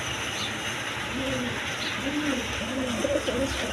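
A pair of lace pigeons for sale coo in low, rolling bursts, several overlapping calls close by over a steady hum of background noise.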